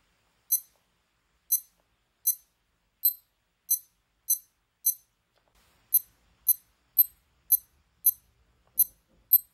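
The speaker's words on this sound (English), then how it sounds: "The beep is slightly louder on the clone watch for some reason" An SKMEI 1628 clone digital watch sounding its alarm: short, high, thin electronic beeps repeated about a dozen times in a steady rhythm with silence between them, close and clear with nothing else around them.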